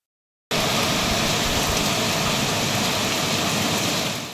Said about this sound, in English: today it rained really hard, and so I have a video of how hard it was raining